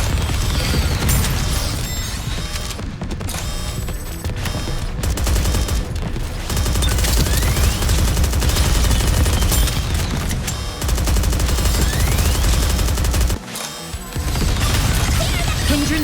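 Dense, continuous gunfire from the video game Goddess of Victory: NIKKE: rapid automatic bursts and volleys overlap with booms and mechanical clatter, loud and sustained, with a brief lull near the end before firing resumes.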